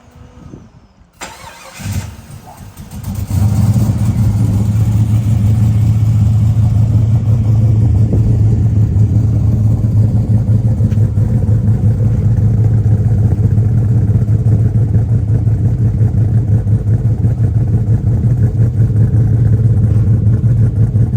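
A turbocharged LS1 VY car starts up after some brief handling noise, then sits at a steady, loud engine drone with a strong low rumble that holds to the end.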